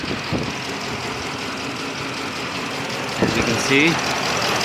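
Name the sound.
truck engine running at idle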